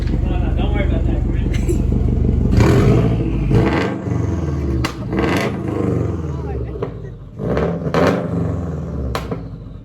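A Subaru WRX fitted with a Tomei exhaust idles with a deep burble, then revs in several sharp, loud bursts that rise and fall. People talk faintly in the background.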